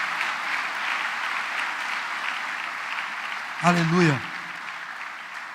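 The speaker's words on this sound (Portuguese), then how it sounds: "Quantos podem aplaudir o Senhor pela sua bondade" Church congregation applauding in a steady wash of clapping that runs throughout the service, with a voice briefly calling out partway through.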